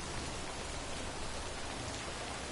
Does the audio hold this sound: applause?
no